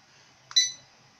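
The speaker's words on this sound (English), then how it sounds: "If you don't want that beep" An automatic school bell controller gives a single short electronic beep, brief and fairly faint, over near silence.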